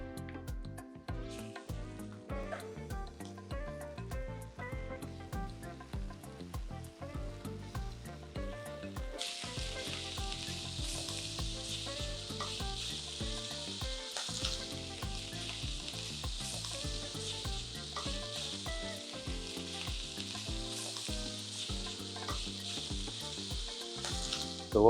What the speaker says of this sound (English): we are going to start with our bacon in the same pan